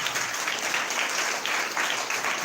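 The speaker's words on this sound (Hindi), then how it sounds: "जोरदार ताली बजाओ" A church congregation at a Sunday meeting applauds loudly, producing a steady wash of dense clapping throughout the short stretch with no voices on top.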